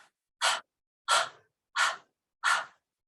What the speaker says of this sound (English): you're just gonna breathe like a puppy dog does